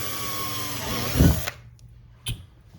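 A power drill whirs steadily at close range, then cuts off abruptly, followed by a short sharp knock.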